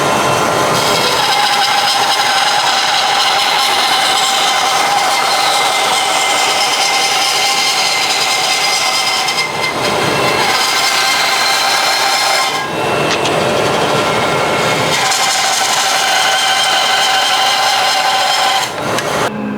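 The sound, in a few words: Axminster AP2920B bandsaw cutting wood, dust extractor running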